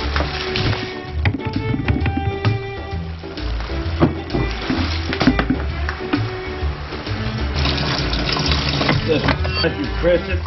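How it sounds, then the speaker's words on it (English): Red wine from roughly 400 kg of crushed grapes runs out of a grape press in a steady, continuous gushing trickle, close by and mixed with background noise and faint voices. "If you press it, you can see the wine's coming out."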